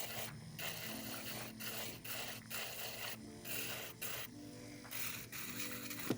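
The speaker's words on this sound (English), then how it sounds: "now I'm going to take my sanding band and I'm just going to remove the shine" Electric nail file with a sanding band buffing the shine off natural nails before polygel nail art, a steady close whirring rasp in repeated passes with short pauses between strokes, no talking.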